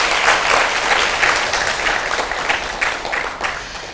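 Audience applause at a Daegu public science lecture on silk as an advanced material, a continuous wash of clapping for the professor that stays steady and gradually tapers.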